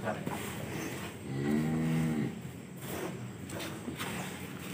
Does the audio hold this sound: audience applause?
no